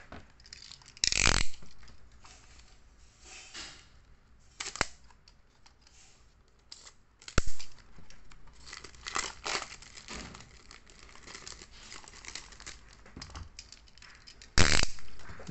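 Plastic and cardboard packaging of a Kaido-House Mini GT Honda Civic diecast model being handled and opened, with crinkling and rustling throughout and several sharp, loud snaps or tears standing out near the start, middle and end.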